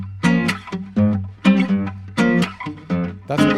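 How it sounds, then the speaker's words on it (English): A short guitar loop plays back in Logic, with plucked, bright notes in a repeating rhythmic pattern, clear and alone without talk. "I want to show you this guitar track."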